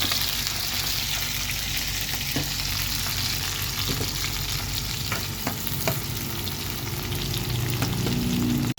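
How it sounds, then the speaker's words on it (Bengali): Onions and green chilies frying in hot oil give a loud, steady sizzle that lasts throughout, with a few sharp clinks and scrapes from stirring. "অলরেডি তেল গরম হয়ে গেছে, এখন আমি সবগুলো দিয়ে দিব, পেঁয়াজ,"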